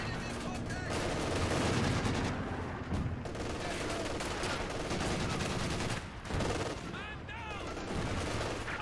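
Sustained gunfire and battlefield noise from Company of Heroes 2 as a Panther tank engages. Rapid shots and bursts run dense and loud for the whole stretch, with a voice talking underneath.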